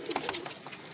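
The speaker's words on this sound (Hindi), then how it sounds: "ये मादी है जी, ये वाली मादी है, ये पीछे कबूतर है, जोड़ा लगा हुआ है" Soft, low coos from a pair of pigeons, male and female, repeat a few times close by, with faint bird chirps in the background.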